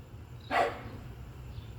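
A single short dog bark, fairly close and alone against quiet background noise, heard indoors during a session of panning gold paydirt.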